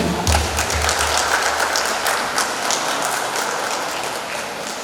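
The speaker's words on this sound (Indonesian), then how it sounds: "Mari kita berikan aplaus untuk mereka." Audience applause at a high school graduation ceremony in Jakarta, honoring newly inducted 12th-grade students: a dense, steady wash of many hands clapping for the whole stretch, slowly easing off toward the end.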